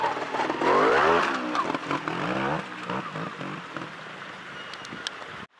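An RPL 250 trials motorcycle ridden at a two-day trial in the Lakes, its engine revving and rising in pitch then settling into a throbbing, uneven run, moderately close, with light crackle and clatter over it.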